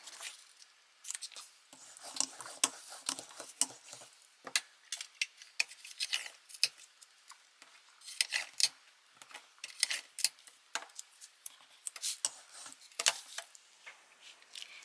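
Cricut cutting machine slicing a Halloween card design on its mat, quiet irregular ticks, clicks and scratchy cutting strokes coming in uneven bursts throughout, with no talking.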